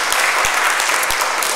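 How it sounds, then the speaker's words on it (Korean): A church congregation breaks into a short burst of dense, even applause, with a few louder thumps near the microphone standing out from the steady clapping. "박수 한번 쳐주세요"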